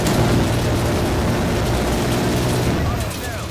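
Chopper gunner helicopter fire in a video game: a loud, continuous roaring rumble with dense, gunfire-like bursts running the whole way through, dropping slightly in level at the very end.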